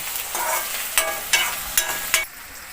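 Jackfruit vegetable sautéing in a hot pan with chilies, a steady close sizzle broken by four sharp scraping stirs of a spatula at even intervals.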